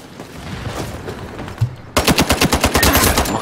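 Rapid automatic gunfire in the shooter video game Ironsight, starting abruptly partway through as a loud, steady burst of evenly spaced shots, preceded by quieter background game noise.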